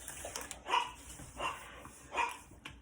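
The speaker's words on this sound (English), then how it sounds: "Now the dogs are getting ready to start tripping just because." Dogs barking in a home kitchen, three separate barks spaced about a second apart, fairly distant and faint, with no talk.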